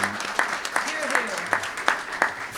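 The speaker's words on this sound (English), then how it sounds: "if we could just give one more round of applause to" Audience applause at a May 2022 swearing-in ceremony, a dense steady clatter of clapping sustained throughout with regular sharper bursts, fairly loud and close.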